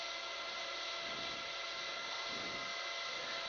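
A simulated Bell 206 helicopter in FSX, hovering high, gives a steady synthetic whine and rotor drone, with slight pulsing shifts as rotor RPM changes under applied torque.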